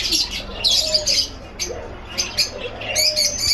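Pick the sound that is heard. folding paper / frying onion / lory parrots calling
lory parrots calling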